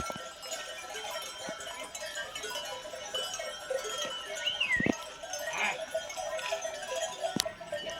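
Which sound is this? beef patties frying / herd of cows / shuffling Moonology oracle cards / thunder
herd of cows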